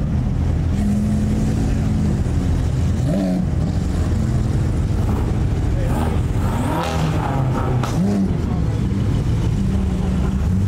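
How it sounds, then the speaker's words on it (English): A large group of supercars heads out on a rally, engines droning and revving nearby in a continuous mix, with individual cars accelerating past and people talking over the noise. "There has to be like over 200 supercars going on this rally."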